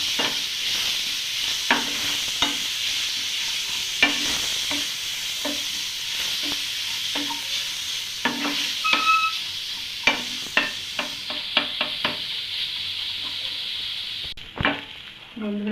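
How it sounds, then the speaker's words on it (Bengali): Boiled fish stirred into a pan of sizzling spices for Bengali fish cutlets, with a steady frying hiss and repeated sharp scraping knocks of a spatula against the pan, continuous and close. "এবার আগে থেকে সেদ্ধ করে রাখা মাছটা দিয়ে দেব।"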